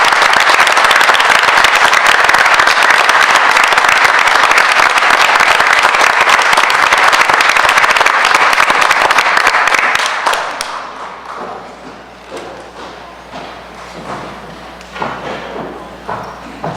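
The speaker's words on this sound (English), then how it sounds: "I ask you to join me in a rousing round of applause for both students and teachers" A school board meeting audience gives a long round of applause for students and teachers, a dense, loud wash of clapping that runs steadily for about ten seconds before thinning to scattered claps and fading.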